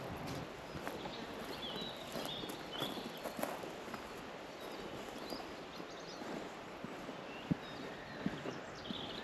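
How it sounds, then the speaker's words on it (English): Faint, distant clip-clop of horse hooves walking over a soft outdoor background hiss on Dartmoor, with no voices. "There's that horse again."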